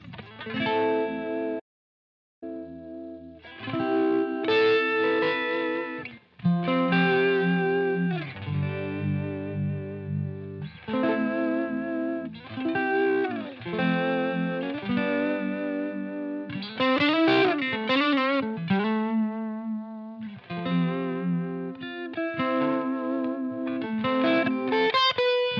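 Guitar played through a Line 6 Helix Ubiquitous Vibe, a model of the Shin-ei Uni-Vibe pedal, with swirling, throbbing modulation over chords and melodic phrases, loud and continuous apart from one brief gap near the start.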